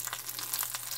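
Oxtail birria corn tortilla frying in a pan, a close, continuous crackling sizzle with small pops throughout and no voices.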